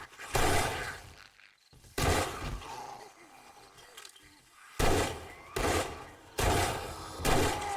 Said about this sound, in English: Gun's loud. It is loud.